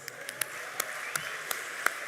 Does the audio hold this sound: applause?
yes